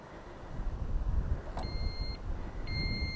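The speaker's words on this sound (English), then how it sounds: "it beeps to warn me that it's armed." A Kovix motorcycle disc lock alarm gives two short electronic beeps to signal it is armed, the first brief and the second longer, heard near over steady outdoor background noise.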